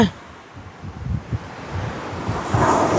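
Sea waves wash up onto a beach where newly hatched sea turtles head for the water, a steady surf roar with wind buffeting the microphone that swells louder near the end.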